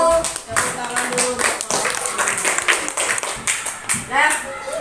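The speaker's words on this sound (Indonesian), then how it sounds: "Tepuk tangan dulu." A classroom of fourth-grade children clapping together, a lively burst of irregular hand claps mixed with young voices chattering over it.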